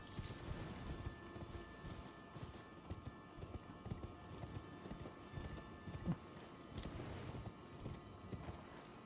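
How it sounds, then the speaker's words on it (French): Horse galloping in the video game Elden Ring, a steady rapid clip-clop of hooves running continuously under a dense game soundscape with occasional thuds. "on peut monter sur le cheval"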